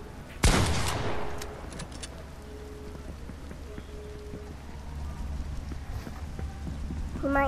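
A single loud gunshot bursts out near the start in the video game Fortnite, then rings off into a low steady background hum with faint scattered game noises.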